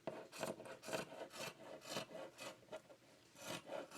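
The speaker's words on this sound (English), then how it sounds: "just going to cut straight across the dress" Scissors cut straight across a knit sweater dress in a quiet room, giving a rhythmic series of soft rasping snips, about eight evenly spaced strokes, close and faint with no talking.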